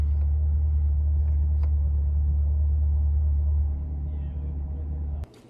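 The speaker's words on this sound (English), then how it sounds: "just wanted to let you guys hear the exhaust sound" Stock exhaust of a 2020 Chevrolet Corvette C8 Z51, a steady deep low rumble that stays loud and constant before dropping in level near the end, heard alone without talk.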